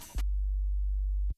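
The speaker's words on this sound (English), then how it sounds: "I'm cutting all the high frequencies. So that the sine wave." A single synthesized sine-wave bass tone with the high frequencies cut, used in a dark UK garage track, sounds as a pure, deep hum lasting about a second, entering and stopping abruptly after a brief snippet of music.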